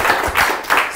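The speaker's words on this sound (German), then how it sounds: "Und an der Stelle nochmal einen großen Applaus an Franz." A seated audience at a German-language lecture event applauds a speaker with a brief burst of close, lively hand clapping filling the whole second.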